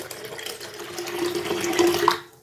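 Strained tamarind water pours into a pan for vathal kuzhambu, a soft, steady trickling splash that builds slightly before tapering off at the end.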